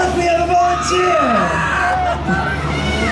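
Loud crowd hubbub at a Halloween Horror Nights show in Islands of Adventure, with overlapping yells, whoops and screams from many voices mixed with babble throughout.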